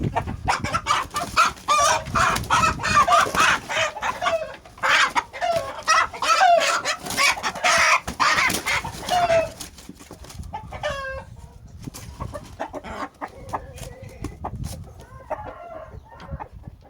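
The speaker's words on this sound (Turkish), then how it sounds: "Şimdi ben bir tane horoz çıkarayım." A rooster crows loudly and repeatedly while chickens cluck and squawk close by, with busy overlapping calls throughout.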